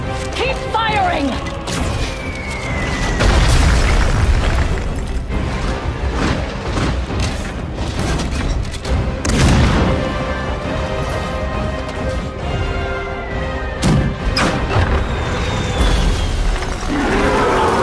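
Cannon fire and explosions in a video game battle boom and crash repeatedly amid a dense, loud battle soundscape, with heavy thuds recurring irregularly and voices calling out over the din.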